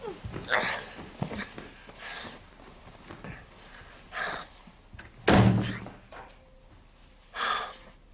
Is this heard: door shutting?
yes